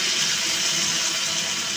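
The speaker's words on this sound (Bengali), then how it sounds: "অল্প পরিমাণে পানি দিব" Water is poured into a pan of eggplant and potato frying in oil, giving a steady, loud hiss and sizzle that holds for the whole moment.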